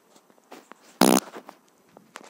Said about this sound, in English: That was a real fart.